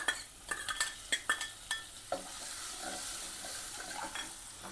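Green chilli, garlic and ginger dropped into a hot tempering for kadhi, a series of sharp spoon clinks against the pan, then a soft steady sizzle close by.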